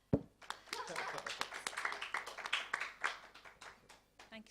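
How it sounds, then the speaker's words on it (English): Scattered, fairly sparse applause follows a fashion show, individual claps audible and uneven, moderately quiet, with a voice murmuring faintly beneath. "he deserves a huge round of applause"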